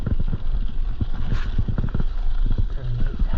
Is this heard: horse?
yes